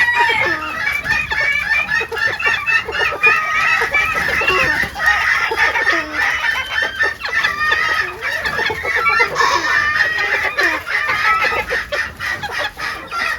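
Mini bantam chickens in a pen cluck and chatter densely and continuously at close range, with occasional louder calls and a hint of crowing.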